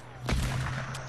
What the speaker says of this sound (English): He's shooting at me with the AR.